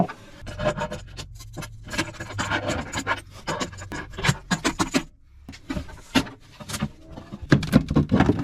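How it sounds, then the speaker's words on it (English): Small screwdriver working screws loose from a Hymer Aktiv motorhome panel: close, irregular scraping and rubbing clicks with brief pauses, louder toward the end, no speech. "I went inside and got a smaller screwdriver, so I'm gonna see if I can get these out, at least on one side."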